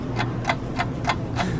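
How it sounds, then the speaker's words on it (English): A countdown timer set for eight minutes ticks steadily, about five soft evenly spaced clicks roughly every third of a second, close and alone over faint background hum. "Okay, Kate, start the timer. 8 minutes on the clock."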